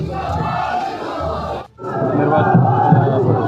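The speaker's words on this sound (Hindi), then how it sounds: "ये सिर्फ मऊगंज विधानसभा की भीड़ है, ये नहीं कि पूरे रीवा जिले की भीड़ है।" A large election rally crowd in Mauganj cheers and shouts in a dense, loud roar that breaks off for a moment and then resumes, with voices mixed throughout.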